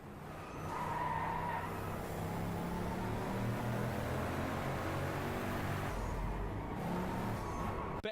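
Racing cars in Need for Speed Heat skid and squeal their tires over a steady engine roar, loud and continuous for the whole stretch with no talking.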